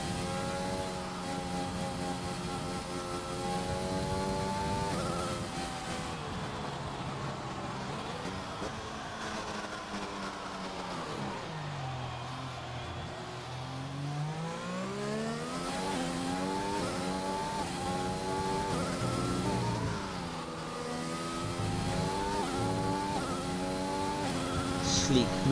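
Onboard race car engine from an F1 racing video game on a flying lap at the Chinese circuit, loud and continuous, pitch climbing through gears, dropping sharply on braking near the middle and rising again, with commentary over it.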